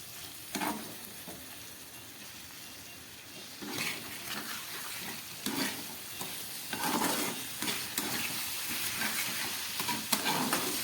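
Spice masala with turmeric and cumin stir-fried in a pan, a soft continuous sizzle broken by repeated bursts of stirring and scraping, moderately quiet with no talking.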